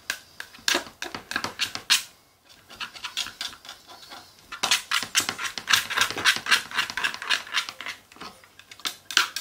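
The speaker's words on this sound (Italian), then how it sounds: "Abbiamo finito di mescolare i colori." Homemade puffy paint made with shaving foam is stirred in a container, giving close, rapid, rhythmic scraping and squelching strokes with a brief pause before it picks up again.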